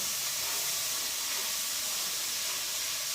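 Vegetables sautéing with a little salt in a small home kitchen, a steady bright sizzling hiss holding constant throughout, close and uninterrupted with no talking.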